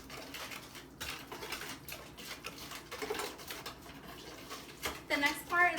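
A spoon stirs a thick mixture in a bowl, giving soft irregular scraping and clinking taps close by, with a voice talking at moments.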